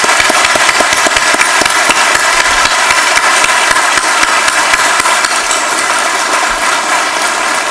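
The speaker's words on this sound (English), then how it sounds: "Let's have a good round of applause for all of them." Sustained, dense applause from a conference audience at a small-satellites event, loud and steady across the whole stretch with no talk over it.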